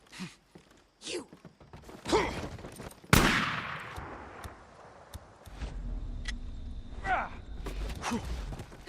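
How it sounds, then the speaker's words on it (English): A shotgun blast and a flashbang go off together in the Days Gone video game as one sharp, loud burst with a ringing tail, set among scattered footsteps and movement before and after. "the flashbang went off right as I was firing the shot"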